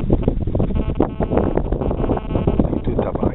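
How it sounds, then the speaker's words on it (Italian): Gusty wind buffets the microphone at a beach, a dense, continuous rumble that swells and dips for a few seconds while someone talks underneath. "Cazzo di vento oggi che rompe di coglioni"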